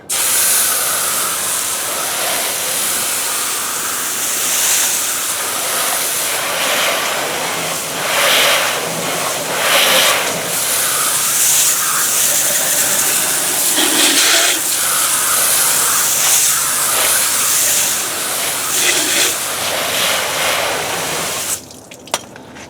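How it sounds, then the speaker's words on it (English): A pressurized water spray blasts steadily against a dirty tire and wheel well of a GMC, a loud continuous hiss up close for about twenty seconds that varies slightly as the nozzle moves, then cuts off abruptly. "Let me rinse it off"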